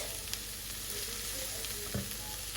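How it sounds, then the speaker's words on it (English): Onions sautéing in a pan for celery soup, giving a steady, even sizzle with a soft stir or clink near the end, with no one talking. "I am sauteing some onions until they caramelize a little bit"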